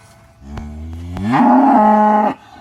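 A dairy cow moos loudly and close by in a single long call during morning milking at the head gate, rising in pitch and holding before stopping abruptly.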